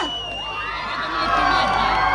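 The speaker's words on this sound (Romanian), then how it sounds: "Încă o dată aplauze" An outdoor crowd at a town festival cheers and claps in a steady, loud roar that swells toward the end, with scattered shouts and a sustained tone over the noise.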